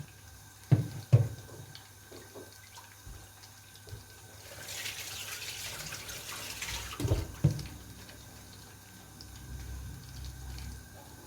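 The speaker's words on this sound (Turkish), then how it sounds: "Bunu yıkayayım da." A pan is washed under a running sink tap in a home kitchen: a couple of sharp clatters open it, then a steady rush of water swells mid-clip, with further knocks before it tapers off.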